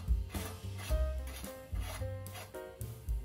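A crank puller tool is threaded by hand into the socket of a three-piece bicycle crank, giving close repeated metallic rubbing and scraping twists in short uneven strokes.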